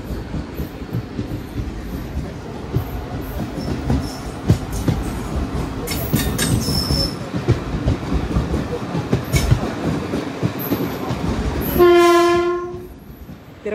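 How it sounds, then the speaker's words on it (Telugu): Hatia Superfast Express rumbles loudly through Chandragiri station, wheels clattering steadily before a long, bright horn blast near the end as the noise fades. "ఆ ట్రైన్ వచ్చేసి హతియా సూపర్ ఫాస్ట్ ఎక్స్ప్రెస్"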